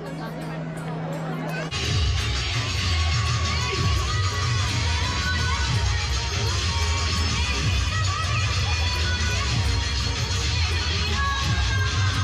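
At a Garba night Dussehra celebration in the UK, a large crowd breaks into sustained cheering and shouting for a dance group, loud and continuous, with music and chatter mixed in.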